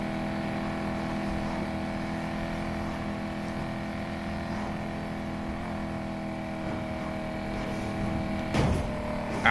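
Supercharged 6.2-litre V8 car engine in Need for Speed Heat, a steady droning hum held at a constant level throughout, with a brief louder burst near the end.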